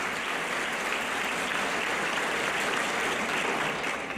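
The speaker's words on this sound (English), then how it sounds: "I think that deserves a round of applause." A conference audience at a San Mateo County economic event breaks into sustained applause, dense even clapping filling the whole stretch without letting up.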